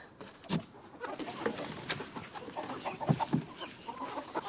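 Hens clucking after being let out of a farm coop, scattered short clucks and calls at close range with some rustling, no talk.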